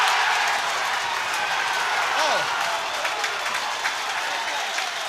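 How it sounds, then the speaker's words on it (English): A handball crowd at the men's world championship final applauds and cheers loudly after the winning point, a dense, sustained roar of clapping that carries through the whole stretch, with a voice briefly heard over it. "Let's listen to this crowd when Paul scores the 21st point."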